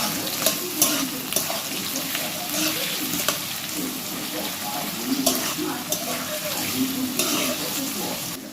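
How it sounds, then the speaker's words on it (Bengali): Onions sizzle and fry steadily in hot oil in a pan for egg biryani, with occasional stirring clinks, close and continuous throughout. "পেঁয়াজগুলো বেরেস্তা করার জন্য ভেজে নেব।"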